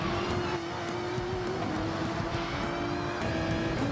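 Race cars running side by side at Spa in Gran Turismo 7, a continuous loud engine drone with a steady pitch and light tyre and road noise, no voices.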